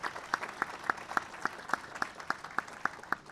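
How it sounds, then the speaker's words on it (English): Faint, sparse clapping from a small audience at a university commencement ceremony honouring faculty and award winners, a slow run of separate claps that come about three times a second. "Please, a round of applause for all of our faculty and our award winners."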